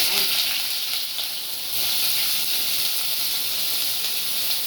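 Mustard seeds splutter in hot oil while masala roast is prepared, giving a loud, dense, continuous hiss and crackle close by that holds steady throughout, with no talking.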